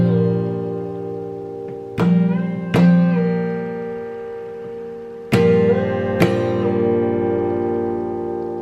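Acoustic guitar playing a percussive harmonics passage, sustained ringing tones punctuated by four sharp body hits or slapped harmonic strikes, with a low string released mid-passage, close and clear with no voices.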